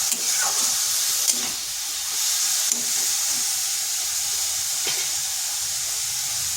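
Cabbage being stirred in a hot pan sizzles and hisses steadily, broken by several sharp scrapes and clacks of the spoon against the metal, close and clear with no voices.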